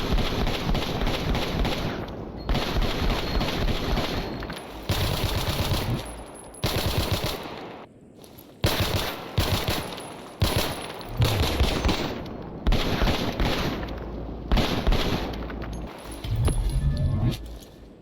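Modded fully automatic Glocks with extended magazines fire in the Stalker Zona mod, in long rapid bursts broken by short pauses, loud and close throughout.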